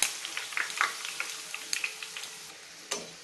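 Bhatura deep-frying in hot oil with oil spooned over it: crisp crackling sizzle with irregular sharp pops and ticks, close and moderately loud, steady throughout.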